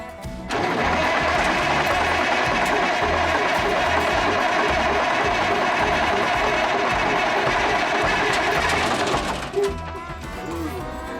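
A 1964 Autocar truck engine cranks over steadily for about nine seconds, a loud continuous mechanical whir that stops abruptly.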